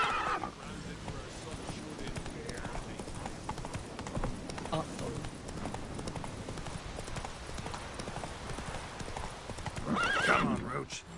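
Roach, Geralt's horse in The Witcher 3 video game, gallops with a steady rapid clip-clop of hooves that runs throughout, ending in a loud whinny near the close, with voices talking over the hoofbeats.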